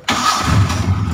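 A 1997 Suzuki Carry (Carreta) engine cranks and catches almost at once, settling straight into a steady, close idle.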